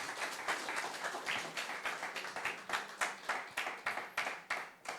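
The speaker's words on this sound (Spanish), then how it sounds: "Un fuerte aplauso para nuestro Señor" A church congregation at a Sunday service claps in a steady rhythmic beat, fairly faint and evenly paced throughout with no talking.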